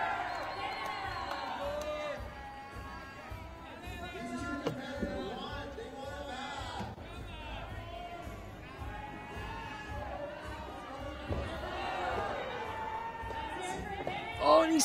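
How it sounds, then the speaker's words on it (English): Crowd at an ice climbing World Cup lead semi-final in Denver cheering and whooping for a climber, sustained and fairly distant, mixed under a commentator talking throughout. "the crowd really getting behind him now"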